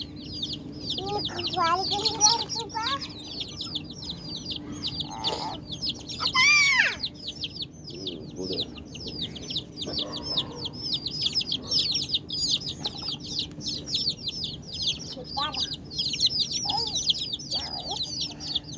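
Hens cluck and a flock of chicks chirps rapidly and constantly around a wire cage while a child catches the chicks. Occasional louder squawks cut through, and faint voices sit underneath.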